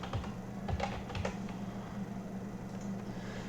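Quiet computer keyboard typing as a login email address and password are entered, a close, faint run of rapid key clicks with a short pause, no voices.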